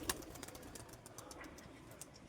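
Faint pigeons on a rooftop loft with a nesting pair, soft fluttering and a few low coos under distant background noise, with occasional sharp clicks.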